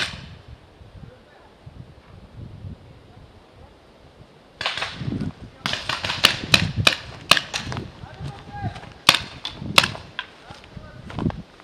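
Rapid sharp pops of paintball markers firing on an outdoor paintball field, several quick shots in bursts after a quieter start, fairly close, with people talking in between.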